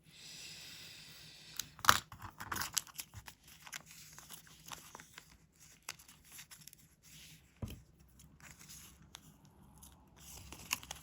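A worn craft blade cuts paper slowly for a bird-shaped papercraft, making faint, scratchy scraping strokes punctuated by a few sharper crisp snips in a quiet room.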